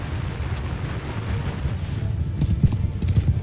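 Horse archers galloping in Mount & Blade II Bannerlord, a dense rumbling clatter of many hooves pounding close and loud, building slightly toward the end, with no talk over it.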